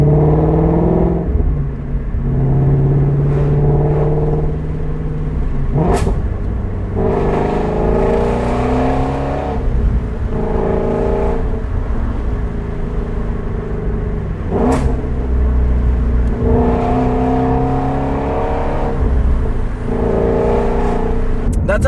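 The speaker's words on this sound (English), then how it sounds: "But on the downshifts, it's got a violent snap" A Shelby GT350 V8 engine is heard up close, revving hard on downshifts in a series of sharp rising and falling blips, with some talk mixed in.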